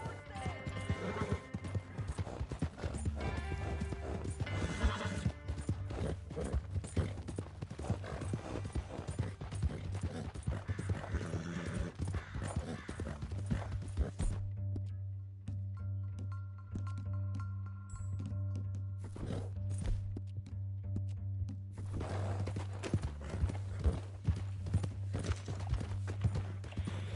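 Horse hooves clip-clop steadily over a dirt trail in Red Dead Redemption 2, a continuous rhythmic trotting close up, with a horse whinnying now and then and game ambience underneath.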